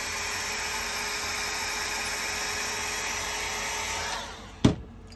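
Conair hair dryer blowing steadily at close range over alcohol ink artwork, a constant whooshing roar that cuts off near the end, followed by a sharp click.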